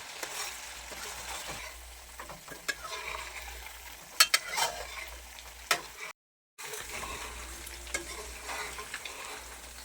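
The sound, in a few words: coconut milk frying down into latik for biko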